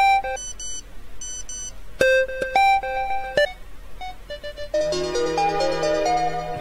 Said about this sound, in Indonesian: Ini ringtone, coy.